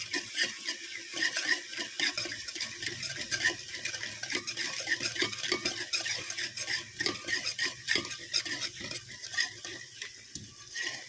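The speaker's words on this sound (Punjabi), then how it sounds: "ਅਸੀਂ ਇਹਨੂੰ ਚੰਗੀ ਤਰ੍ਹਾਂ ਫੇਟਾਂਗੇ ਇਹ ਮਸਾਲੇ ਨੂੰ ਹਿਲਾਵਾਂਗੇ" Spice masala for pakora kadhi is stirred and beaten in a pan, a continuous run of close, rhythmic scraping and clinking of a utensil against metal over a light frying sizzle, with no voices.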